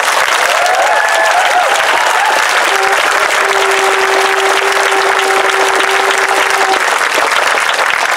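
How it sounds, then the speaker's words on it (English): Outdoor rally crowd giving a loud, dense round of applause for the volunteers, continuous and steady through the whole stretch, with faint tonal sounds and a few cheers mixed into the clapping. "can we please give all the people that put in time for this rally a round of applause"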